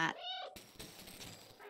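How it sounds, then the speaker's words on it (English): A cat meows in the video game Stray, one short, clear tonal meow at the start, followed by a burst of broadband game ambience. "My meow seemed to do something."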